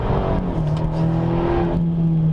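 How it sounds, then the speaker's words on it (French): An Abarth 124 Spider with its 1.4 MultiAir 140-horsepower engine runs on a wet track, giving a loud, close, sustained engine drone with steady harmonic tones that shift slightly in pitch as it pulls, with no voices. "Le moteur multi-air de 140 chevaux"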